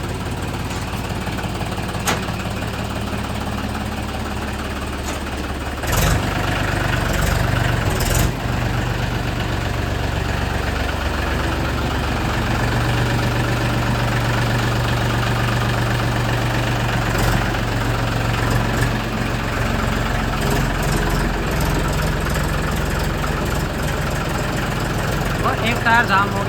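A diesel tractor engine, just started after three months unused, idles with a steady low rumble and knocking throughout, close by, with occasional clanks and a voice speaking over it.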